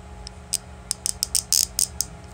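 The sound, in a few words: squeaky noise from a Beyblade while modding it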